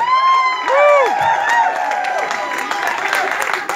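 Audience applause and cheering at a live concert by a singer and his band at a resort, a dense crowd roar with whoops and shouts, loud and sustained from start to finish, with a voice briefly over it near the start.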